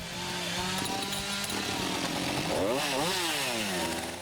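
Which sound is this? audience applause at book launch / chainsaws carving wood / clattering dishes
chainsaws carving wood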